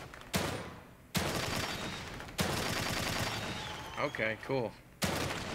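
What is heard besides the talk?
gunshots in video game The Evil Within 2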